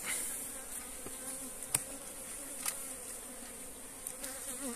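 Italian honey bees buzz steadily around an opened log hive in northeastern Brazil, a dense continuous drone with a few insects passing close by in brief sharper swells, no talking.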